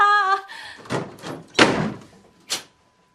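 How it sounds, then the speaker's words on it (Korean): A door is shut and locked with a few separate thuds and knocks, close and fairly loud, then silence; the door sounds form part of a narrated story. "장은 문을 닫고 잠가버렸다."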